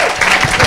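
A church congregation claps and cheers during a sermon, a loud dense burst of applause mixed with crowd voices, heard only briefly.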